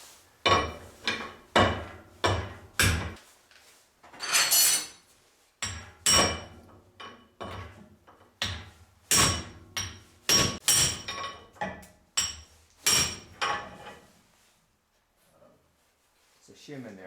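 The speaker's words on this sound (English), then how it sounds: "And just knock the bearings out of this." Repeated hammer blows knocking bearings out of a busted rear differential, sharp metallic strikes in uneven bursts of two or three, close and loud, with a pause near the end.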